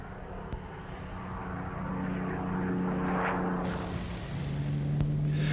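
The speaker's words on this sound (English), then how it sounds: "the final production version called the Hurricane 4. That had the powerful Merlin 24 or 27 engines" Hawker Hurricane Mark IV ground-attack fighter with a Merlin 24 or 27 engine, running on a temporary airstrip in Calcutta; a steady propeller-engine drone holds throughout, swelling slightly midway with no voices.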